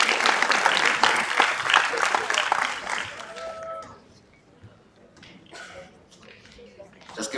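An audience at a council meeting general assembly applauds the board as it comes on stage. The applause is steady and full at first, then thins out and fades to scattered sounds.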